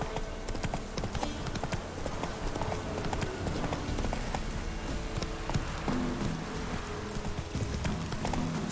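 A horse gallops in The Witcher 3: Wild Hunt, its hooves making a steady, fast clip-clop rhythm that continues throughout at moderate loudness, with a faint game ambience beneath.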